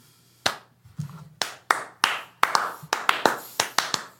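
Hand clapping in a room: about a dozen sharp, separate claps, sparse at first and then faster and evenly spaced, close and clear with no voices.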